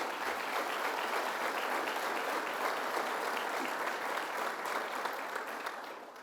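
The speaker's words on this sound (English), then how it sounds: "Let's give them a round of applause." An audience at a Niagara Falls economic development announcement in western New York breaks into sustained applause, a dense wash of many hands clapping that stays steady and full before easing slightly at the end.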